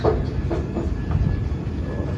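A passenger express train from Howrah toward Jabalpur rumbles along with a steady low roar and rhythmic clacking of wheels over rail joints, heard from inside a carriage.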